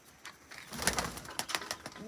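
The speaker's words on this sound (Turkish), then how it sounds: "Üç tane güvercinimiz var burada da." Pigeons coo in a coop, a few short throaty calls in quick succession, close and clear, with no voices.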